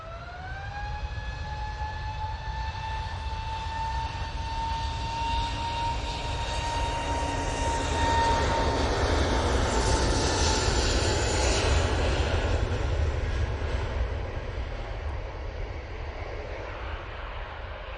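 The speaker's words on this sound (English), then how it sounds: "Going back to Copenhagen, using the A320neo for this." An Airbus A320neo airliner at Manchester Airport, bound for Copenhagen, gives a loud, steady engine roar with a rising whine, building slightly in the middle and holding throughout, with no talk.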